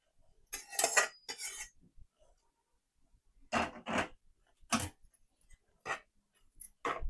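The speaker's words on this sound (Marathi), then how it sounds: "आता छान असं ह्याला मी मिक्स करून घेते" A spoon knocks and scrapes against a bowl while mixing poha ladoo dough with ghee, jaggery and fried cashews and almonds, in irregular clinking bursts separated by short silences.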